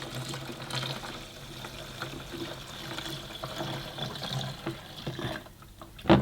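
Cleaning solution pours into the tank of a Bissell 1671L Big Blue deep cleaner, a continuous liquid gurgle and trickle that ends with a sharp plastic knock.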